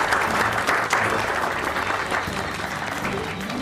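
Steady audience applause fills a health awareness event in Bihar, India, as a dense, even wash of many hands clapping without pause, with no voices over it.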